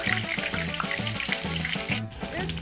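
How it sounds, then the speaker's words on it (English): Spaghetti burger patties coated in panko fry in a hot pan with a steady, close sizzle and crackle that runs the whole time, joined by a few light stirring or handling sounds. "And then you're gonna fry them up, both sides."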